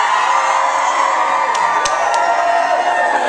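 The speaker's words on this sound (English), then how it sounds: "That's what I love, a festival crowd." A festival crowd at Murray Park cheers loudly and continuously, with scattered whoops and shouts rising above the dense roar.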